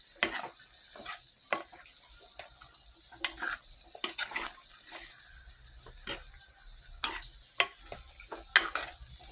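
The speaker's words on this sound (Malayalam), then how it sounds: "അപ്പോൾ അത് നമുക്ക് അരപ്പ് നന്നായിട്ടൊന്ന് മിക്സ് ചെയ്യാം" Turmeric, chili and garlic spice paste stirred in a hot pan for a coconut-based aviyal with raw banana and prawns: repeated scraping strokes and light sizzling, close and steady, with no speech.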